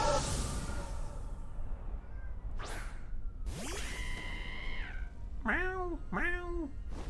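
Pet cat Milo meows twice in quick succession near the end, short rising-falling calls that stand out above a steady background of game sounds and whooshes.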